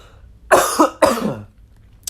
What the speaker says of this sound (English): I'm sorry about the coughs